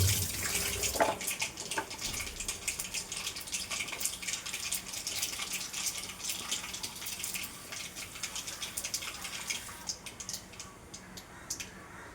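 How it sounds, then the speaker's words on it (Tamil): A kitchen tap runs over tomatoes being washed, a steady close splashing stream with brief knocks near the start that thins out toward the end; no one speaks. "தக்காளியை கழுவிக்கலாம் நல்லா"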